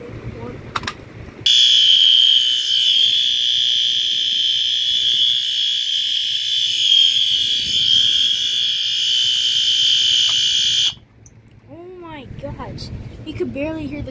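A loud, steady high-pitched electronic siren tone blares continuously for several seconds, then cuts off abruptly, followed by a voice speaking.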